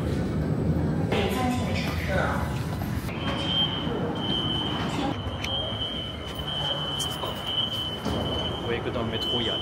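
Interior of a Suzhou metro train in motion, a faint steady rumble with a high thin whine and occasional squeaks, quiet and spacious with no talking.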